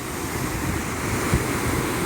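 The Kukdi Khapa waterfall near Chhindwara, where the river drops into a deep fall, gives off a steady, dense roar of rushing water with wind buffeting the microphone and no talk.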